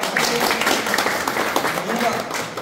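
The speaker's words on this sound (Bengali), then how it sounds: "হাততালি দেন সব।" A crowd applauds at a football tournament prize ceremony, a dense patter of clapping running throughout while a voice speaks over it.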